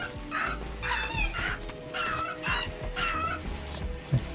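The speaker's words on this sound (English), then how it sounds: "A sweet sound of chickens" Repeated squawking, clucking chicken calls from the video game RimWorld in quick bursts, fairly loud and close, with a steady electronic hum beneath.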